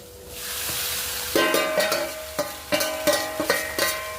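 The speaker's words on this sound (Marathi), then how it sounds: "आपण आता त्याच्यामध्ये तांदूळ टाकून घेणार आहेत" Cooked rice is tipped into a pan of fried rice and stirred, giving a steady sizzle broken by a run of sharp, close spatula scrapes and clanks against the pan, with no talking.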